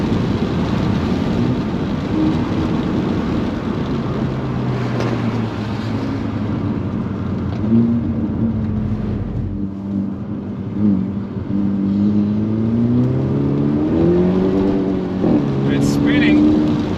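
2022 Hyundai Elantra N on a wet track, its engine note rising and falling through gear changes with rushing road and spray noise, heard from inside under steady talking.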